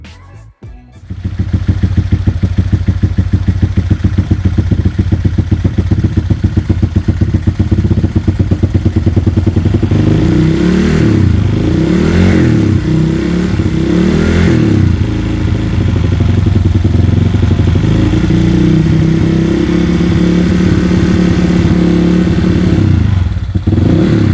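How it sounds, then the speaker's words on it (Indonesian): A rebuilt motorcycle engine fitted with a CMS aftermarket exhaust and Mitsubishi radiator coolant idles loudly and steadily, then revs repeatedly in rising and falling sweeps, close up with no talking. "suara motor jadi kayak nggak karuan gitu, padahal knalpot pakai CMS dan itu rasanya gede banget suaranya"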